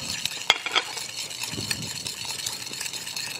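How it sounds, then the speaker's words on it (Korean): Sugar being stirred into vinegar for a vinaigrette-style dressing, with salt also added, makes faint clinks and light scraping of a utensil in a bowl alongside a low background hiss, heard alone without talk. "지금 식초에 설탕에 설탕 먼저 풀어주고요"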